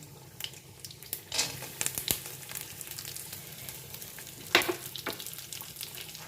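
Steady low crackling sizzle of whole spices frying in hot oil, with a few sharper pops and stirring scrapes standing out along the way.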